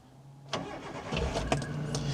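A Suzuki Jimny's 1.3 litre four-cylinder engine cranks and catches, a brief burst of starter noise followed by a steady, low idle that settles in close and moderately loud.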